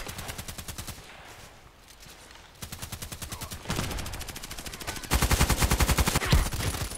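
Rapid automatic gunfire in a sniper video game, bursts of evenly spaced shots that grow louder and denser toward the end, close and dominant with no talk.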